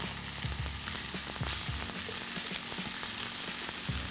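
Hot oil sizzles steadily as chicken and vegetables fry in a pan, with occasional scrapes and clinks of stirring close by, and no voices.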